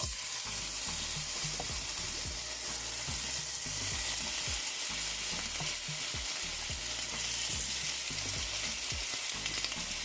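Potatoes fry in a skillet with cold pressed olive oil, a steady close sizzle running throughout with repeated scraping and stirring clatter of a utensil against the pan.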